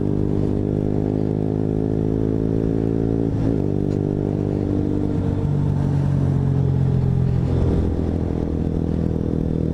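A KTM RC125 motorcycle engine drones loudly and steadily close by, its pitch shifting as it revs and changes speed, with some clattering underneath.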